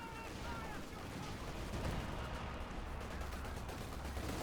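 Relentless artillery barrages in Company of Heroes 2 pound continuously as dense, rumbling booms and scattered gunfire, loud and layered throughout a busy multiplayer battle, with no talk over it.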